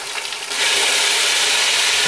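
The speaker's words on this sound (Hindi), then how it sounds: "अब मैंने प्याज शामिल कर देनी है।" Chopped onion dropped into hot oil with cumin and black peppercorns for matar pulao, a loud, steady close sizzle that swells after a brief softer start.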